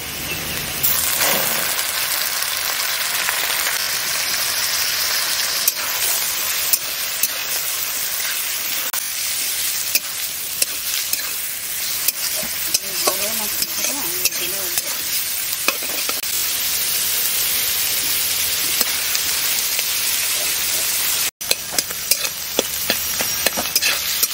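Fish sizzling in hot oil over a village cooking fire, a steady loud hiss and crackle running throughout with occasional scraping stirs and a brief dropout near the end.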